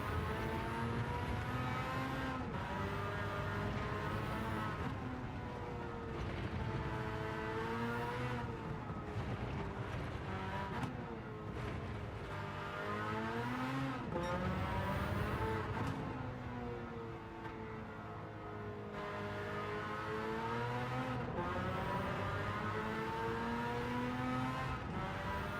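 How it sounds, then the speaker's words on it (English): A V8 car engine passing and revving, loud and continuous, with its pitch repeatedly rising and falling as it accelerates and backs off. "I do love the sound of a V8."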